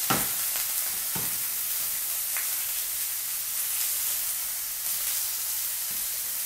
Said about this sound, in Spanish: Tenemos cuatro hamburguesas en nuestro sartén. Voy a ir volteando la primera.